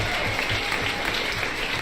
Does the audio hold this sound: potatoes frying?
no